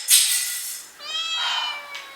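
A pet cat meowing indoors: a loud, high drawn-out meow followed by a second, longer wavering meow, close and alone without talk.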